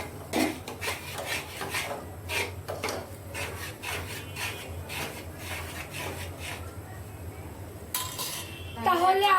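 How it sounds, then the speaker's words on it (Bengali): Tea being stirred in a pot with sugar, with repeated close scraping and rasping strokes of a utensil against the metal and occasional clinks, and voices talking in the background. "চাটা একটু নাড়া দাও।"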